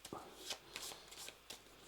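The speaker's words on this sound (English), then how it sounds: "So we take the last stack, we give this stack a shuffle" Cards in a tabletop deck-building game being shuffled as a stack, a run of crisp riffling bursts at a steady rhythm, close and fairly quiet, with no voices.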